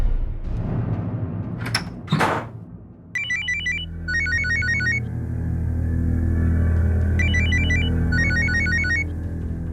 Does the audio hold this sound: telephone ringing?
yes